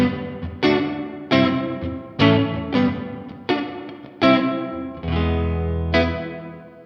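Guitar through an Electro-Harmonix Cathedral reverb pedal with the blend set midway: plucked notes and chords ring out one after another, each trailing a roomy reverb tail, ending on a held low chord.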